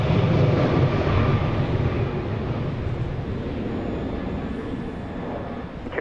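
A Boeing 737-700 airliner at Dallas Love Field roars at night as a broad, steady engine rumble that fades slightly, without speech.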